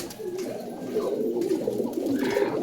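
Pigeons kept in a loft cooing together, a continuous low burbling chorus close by with no pauses.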